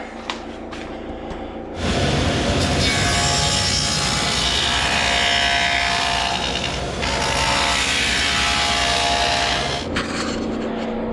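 A loud power saw cuts dadoes steadily through wooden cabinet side panels in two long passes with a brief dip between, a motor whining before and after.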